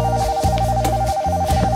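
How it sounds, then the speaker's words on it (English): A toy foot phone rings in a children's show, sounding as a steady electronic tone pattern that pulses on and off over a low hum, with no talking. "Ring goes the foot phone."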